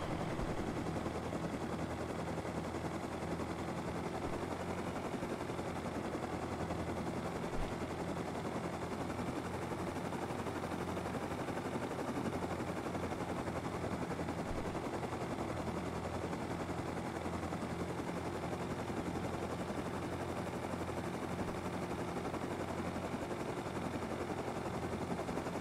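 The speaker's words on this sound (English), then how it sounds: "Tell me helicopters aren't going to be like the best thing ever." A helicopter in the survival game Rust drones steadily and loudly for the whole stretch, a continuous broadband rotor-and-engine roar with no talk over it.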